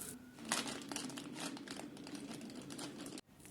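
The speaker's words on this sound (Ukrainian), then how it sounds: "Перший шматочок я кладу в пакет, не торкаючись руками" Crinkly plastic rustling as a zip bag is handled close by, a steady crackling that stops abruptly near the end.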